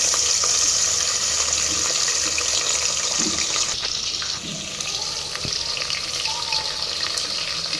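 Onions frying in hot oil for a chicken dum biryani make a steady, loud, close sizzling hiss throughout, with faint scrapes and clinks underneath and no voices.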